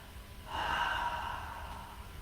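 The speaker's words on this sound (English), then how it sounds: "Just breathing here." A slow, audible breath during vinyasa yoga practice swells up around half a second in and eases out over the next second or so, close and soft, with no talking.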